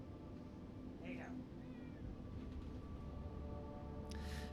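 A house cat gives a few short meows near a computer, heard faintly over a steady background hum. A person talks during the clip.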